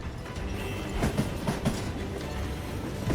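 A moving train in the video game Call of Juarez: Gunslinger rumbles steadily, with rhythmic clickety-clack wheel thumps over the tracks and a broad, continuous rolling roar, without speech.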